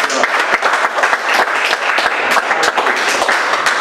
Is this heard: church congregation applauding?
yes